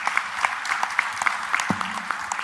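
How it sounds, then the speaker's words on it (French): Scattered to steady applause from a conference audience at the AUSIM 2018 event in Marrakech, honoring a live drawing artist, with distinct individual claps popping out over the moderate crowd clapping. "Je vous propose de lui faire des applaudissements."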